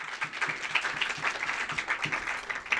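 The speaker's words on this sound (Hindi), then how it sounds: "जोरदार तालियों से स्वागत।" A modest crowd claps at a school awards ceremony for a felicitation, fairly distant, uneven applause with individual claps audible, steady and moderately quiet.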